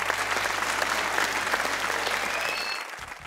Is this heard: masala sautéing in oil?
no